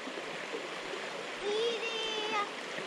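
A backpacking creek crossing fills the air with a steady rush of flowing water, close and continuous, while a voice speaks briefly partway through.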